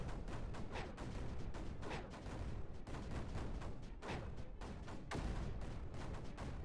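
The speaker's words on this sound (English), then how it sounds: "Oh, look, the mortars actually cleared it." Rapid barrage of mortar and artillery blasts in a video game, dense overlapping booms and cracks hammering continuously at close range with no pauses.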